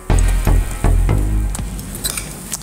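Apple pieces frying in a pan over high heat, giving a loud close sizzle with several sharp bursts as the fruit is stirred or turned, then fading to a quieter steady crackle.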